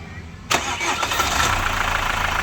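A 2012 Chevrolet Captiva diesel engine cranks on the starter and fires, a sudden loud start after near quiet, then settles into a steady, close rumbling idle.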